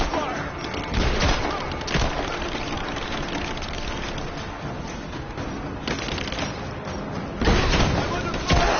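Sustained gunfire and explosive crackle from a firefight in the video game Rise of the Tomb Raider, a loud dense barrage with heavier bursts, shouted voices mixed under the battle.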